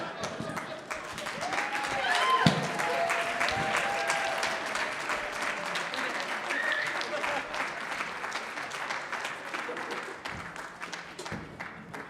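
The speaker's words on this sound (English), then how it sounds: "Give them all a round of applause." An audience at an adult Purim evening applauds Mount Zion's players, with dense, sustained clapping and a few voices and cheers mixed in throughout.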